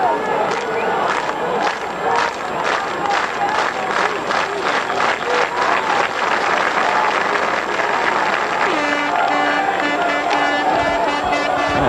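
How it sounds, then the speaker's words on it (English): Slow, evenly spaced hand claps ring out from a large rugby league crowd at Bradford versus Wigan in 1996, loud and rhythmic over a murmuring stadium, before a steady tone takes over near the end. "Some slow hand clapping from the crowd."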